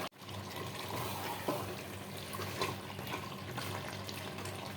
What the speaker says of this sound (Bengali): এবার আমি সেদ্ধ করার জন্য জল দিয়ে দেবো।